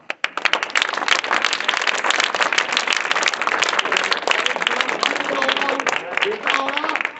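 Classroom students clapping during a maths lesson on factors and multiples, a burst of many hands clapping together that holds steady for several seconds, with children's voices faintly mixed in near the end.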